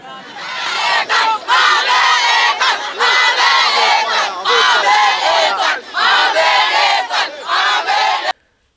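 A loud, dense crowd shouting and yelling continuously as police fire tear gas to disperse them at an eviction site in Gesco, voices close and overlapping before cutting off abruptly.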